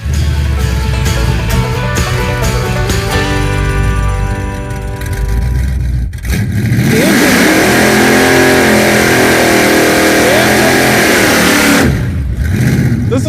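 A nitrous-fed Chevelle's overheated engine revs hard and roars as it accelerates down a quarter-mile drag strip, loud and close, with a brief pause before a second surging run.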